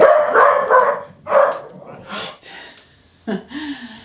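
A dog barks in short yaps and gasps indoors, mixed in with someone talking about sewing fabric.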